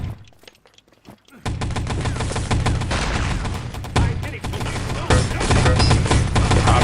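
Wolfenstein: Enemy Territory rifle grenades and gunfire on Electra in a 6v6 cup match, dense rapid bursts of shots and blasts after a quieter opening, loud and continuous with a sharp heavy hit near the end.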